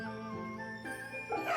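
A dog in the Fate/Samurai Remnant video game gives soft, short bow-wow yips while being petted, heard close over layered game music and ambience.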